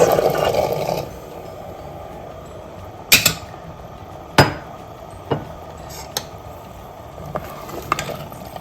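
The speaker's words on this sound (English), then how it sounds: "we're going to add our 12 ounces of fresh cranberries" Twelve ounces of fresh cranberries go into a pan of simmering orange juice, a rush of falling berries followed by several sharp, close knocks and clinks against the pan, with no talking.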